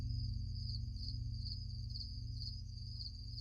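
Crickets chirp steadily in a continuous high trill, soft and distant, with a low hum underneath and no other sounds.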